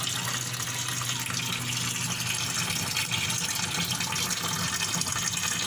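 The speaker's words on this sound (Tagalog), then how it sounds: "punan ko lang ng tubig" Tap water pours steadily into a Hanabishi twin-tub washing machine, a loud, constant gushing hiss that fills the whole stretch without pause.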